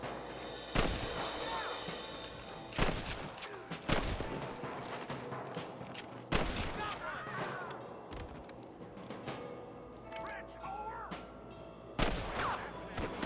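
Gunfire in the video game Red Dead Redemption, several loud sharp shots spaced irregularly over a busy game soundscape, some echoing like distant fire.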